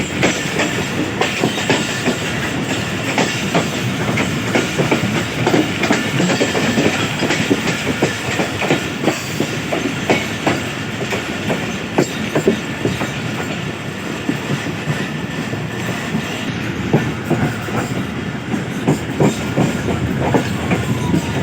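A moving train rolls into Karachi Cantt railway station on the fast run from Kotri, with a steady loud rumble and continuous clickety-clack of wheels over rail joints and no voices.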